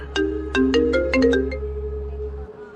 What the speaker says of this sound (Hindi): उसके पापा गौतम का उसे फोन आया